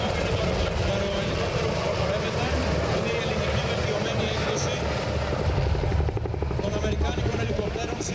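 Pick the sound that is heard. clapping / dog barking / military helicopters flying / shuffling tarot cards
military helicopters flying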